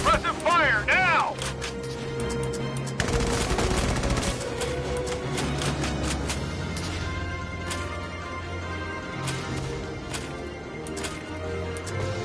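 Gunfire and suppressive fire in the war game Valkyria Chronicles 4, with bursts of shots and crashes mixed into busy battle noise and music, and voices talking over the fighting throughout.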